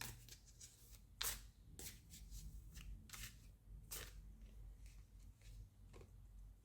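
Tarot cards shuffled by hand close up, with soft repeated riffles and sharper snaps at irregular intervals, quiet and without talk.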